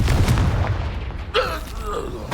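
Bombarda and Confringo explosive spells cast in the video game Hogwarts Legacy, a couple of muffled booming blasts with crackling debris, brief and fairly loud.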